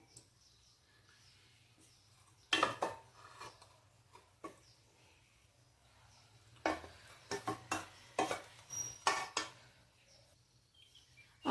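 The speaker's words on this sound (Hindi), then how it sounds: "अब ये हमने जो पोटैटो ग्रेट करा है वो ले लेंगे और इसमें अब हम ये सूजी मिला लेंगे।" Semolina being mixed into grated potato by hand or spoon, quiet scattered bursts of soft scraping and stirring separated by near silence, growing into a cluster of short strokes in the second half.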